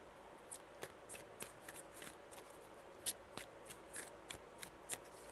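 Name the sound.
shuffling tarot cards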